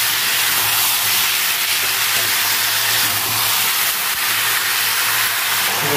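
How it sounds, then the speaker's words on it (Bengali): Long-cut potato slices fry in a pan with a pinch of salt as they are stirred, for a rui fish and potato curry; a loud, steady, hissing sizzle runs unbroken throughout. "এবার লম্বা লম্বা করে কেটে রাখা আলুগুলো দিয়ে দেবো, একটু লবণ দিয়ে দেবো, ভালো করে নেড়ে ভাজতে থাকবো।"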